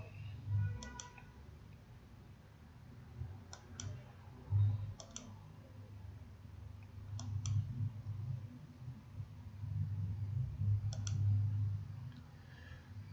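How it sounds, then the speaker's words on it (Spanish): Computer mouse clicks in short pairs and small bursts, scattered across a quiet stretch with a low steady hum underneath while Excel text orientation options are tried one after another. "Vamos a hacer clic en cada una para que vayan viendo."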